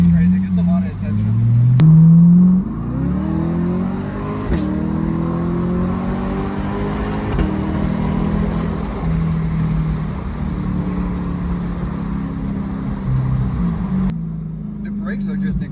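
Stock Chevrolet Corvette C8 engine revving and accelerating, rising through the gears with a loud, close roar and brief shifts, while people talk over it.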